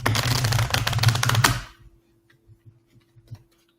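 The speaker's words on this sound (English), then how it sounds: "I could shuffle this deck so many times" Rapid riffling clatter of cards being shuffled for about a second and a half, followed by quiet, scattered soft taps and a faint hum.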